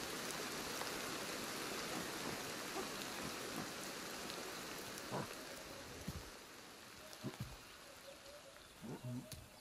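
Steady rain falls in the survival game Ancestors, a dense even hiss that stays loud throughout, with a few soft thuds and splashes near the end.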